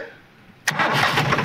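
A tractor engine cranks and catches in a Tochan tug-of-war contest between a John Deere 5305 and a Massey 241, then settles into a loud, steady running rumble close by.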